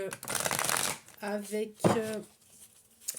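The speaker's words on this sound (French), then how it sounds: "je vais utiliser le tarot psychique, et puis après, je vais tirer quelques cartes" Tarot cards being shuffled by hand, a riffling burst followed by shorter flicks and slaps of the deck, close, with a voice speaking briefly between the shuffles.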